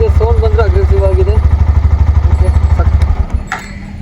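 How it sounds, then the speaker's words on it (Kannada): A Hero Xtreme 125R motorcycle engine, 125 cc with a five-speed gearbox, chugs in a loud, steady, close rhythmic idle pulse before tapering off, with a brief clatter near the end. "ಸಖತ್ತಾಗಿದೆ ಗಾಡಿ ಸೌಂಡು."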